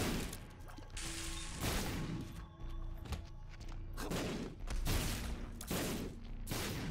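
Repeated explosive blasts from Ipecac shots in The Binding of Isaac: Repentance, a fast, loud barrage of game explosion thuds and crashes over a steady music bed, about one burst per second.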